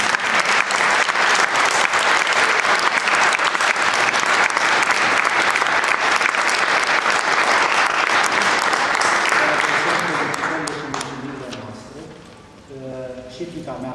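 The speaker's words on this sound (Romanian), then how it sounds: "S-o aplaudăm!" A theatre audience breaks into sustained, loud applause for an honoured violin teacher, dense clapping filling the room for about ten seconds before thinning out, with a voice speaking over the fading end.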